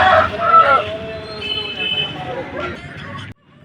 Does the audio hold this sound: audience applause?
no